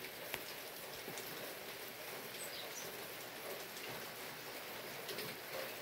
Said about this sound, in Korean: 인도에 남아있는 눈도 다 녹아내리는 비가 내리고 있습니다